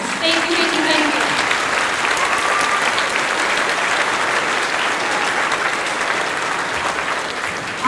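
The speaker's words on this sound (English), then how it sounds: "round of applause to these guys" Sustained applause from a concert audience for youth band students, steady and dense for the full stretch, with a few voices audible near the start.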